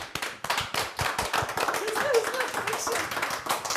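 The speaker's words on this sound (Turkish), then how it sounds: "alkışlarla kim geliyor Halis Mustafa Topal geliyor" An audience claps loudly in a quick, steady burst of applause while a voice speaks over it.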